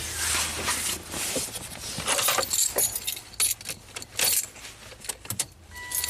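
Car keys jangling inside a Volvo turbo that is stuck in park, a close, bright metallic rattle that comes in several quick bursts with short pauses between them, and no talking.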